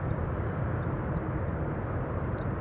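A Boeing 747 airliner lands on a runway at Amsterdam Schiphol Airport, its engines a loud, steady low roar filling the whole moment with no voices.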